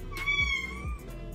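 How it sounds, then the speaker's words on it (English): A pet cat gives one drawn-out meow, close and clear, rising and then falling in pitch against a quiet low hum, with no one speaking. "This is my cute cat"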